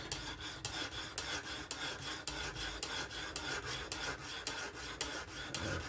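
A Work Sharp Professional Adjust sharpener grinds a Kizer October 20CV folding knife blade in quiet, evenly spaced rasping strokes, about three per second, heard alone throughout.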